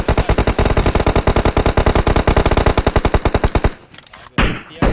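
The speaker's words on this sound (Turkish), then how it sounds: "Mermi kalmayacak boşa sıkmayalım" Rapid machine-gun fire in a shooter video game, a long loud sustained burst of evenly spaced shots that cuts off, followed by a couple of brief separate bursts.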